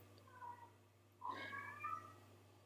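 A cat meows twice in a quiet room, a short call and then a longer, drawn-out meow, moderately faint with a low steady hum underneath.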